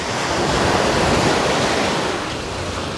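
Sea waves wash onto the sandy beach at Belek, Turkey, in a steady, loud rush of surf mixed with wind across the microphone, easing a little toward the end, with no voices.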